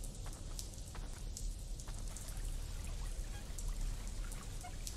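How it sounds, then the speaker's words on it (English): A water wheel in the horror game Candlelight: Lament churns steadily, a constant splashing, trickling wash with a low rumble beneath, fairly close and even throughout. "Water wheel."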